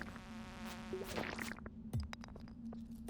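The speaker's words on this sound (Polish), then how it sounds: "No bij muchy, no." Flies buzz in the farming game Stardew Valley, a steady close drone with short, sharp swatting hits and small clicks layered over quiet background music.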